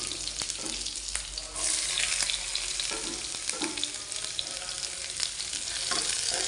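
Shallots and curry leaves, with ginger and garlic, sauté in a pan as the base for a Kerala-style fish curry: a steady, close sizzle with scraping stir strokes throughout and no talking.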